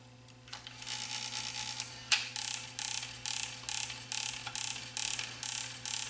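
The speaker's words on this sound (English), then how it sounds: "So let's press the eject button and see what happens. Ah, it's stripping." A Sony MZ1/MZ2P MiniDisc Walkman eject mechanism with a flat-spotted gear whirs briefly, then stutters into a regular run of about ten sharp ratcheting bursts as the gear strips, close and loud with no talking.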